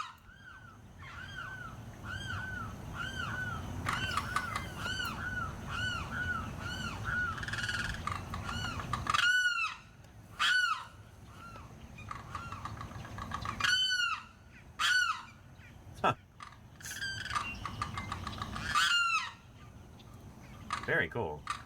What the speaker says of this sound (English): Florida's loudest bird.